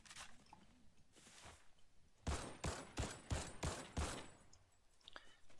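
A burst of rapid gunfire rings out in a video game battle royale, about six loud, evenly spaced sharp shots in quick succession, preceded by quieter rustling and faint scattered clicks.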